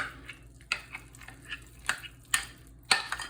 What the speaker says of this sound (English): And all we do here, stir that up